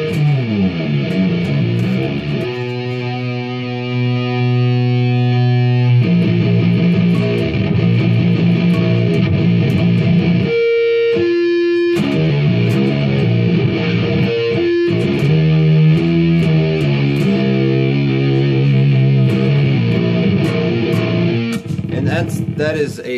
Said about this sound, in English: That is a completely virtual guitar amp plugin that I'm using